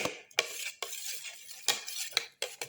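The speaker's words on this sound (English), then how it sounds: "Thoroughly mix and crush all the ingredients together" Ginger, garlic and tomato being mixed and crushed in a bowl, heard as a few loud, separate scraping and clinking strokes of a utensil against the dish, spaced unevenly, with no talking.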